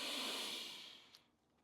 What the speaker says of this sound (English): So breathing in through your nose.